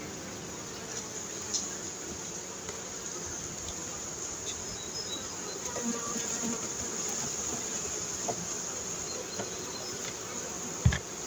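Honeybees in an open hive being prepared for winter give a steady, close, dense buzzing that lasts throughout, with faint handling noises and a thump near the end.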